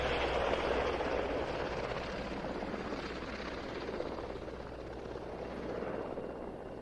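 A Norwegian Air Force Merlin helicopter arrives at the RIAT air show, its rotor and engine roar loud and steady throughout with no talk over it.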